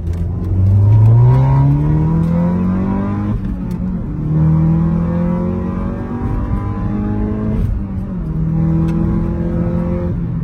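An Audi tuned to stage 2 pulls hard through the gears, engine note climbing loud and near in three rising sweeps, each broken by a quick shift.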